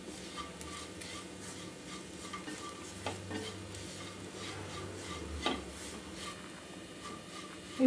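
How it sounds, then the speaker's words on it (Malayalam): A spoon stirs and scrapes spice powders roasting in a pan for a Kerala-style beef dry fry, with a steady soft sizzle and a few sharper scrapes against the pan, close by and with no talking. "സ്മെല്ലെല്ലാം മാറി നല്ലൊരു സ്മെല്ല് വരുന്നവരേക്കും നമ്മൾ ഇളക്കി കൊടുക്കണം."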